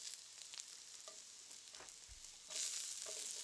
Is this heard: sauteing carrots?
yes